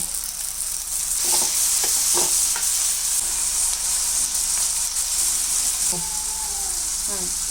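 Maggi noodles being mixed in a sizzling pan: a loud, constant frying hiss with scraping, stirring knocks near the start and a faint voice in the background.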